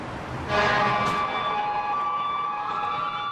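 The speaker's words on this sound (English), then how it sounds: "Sirens blare on the streets of Toronto." Emergency vehicle sirens wail steadily through a busy Toronto street, high tones holding and shifting over constant traffic rumble, fairly loud and unbroken.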